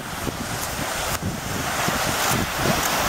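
Sea waves wash onto a beach with steady wind buffeting the microphone, a continuous broadband roar of surf that swells and recedes over a few seconds, with no talking.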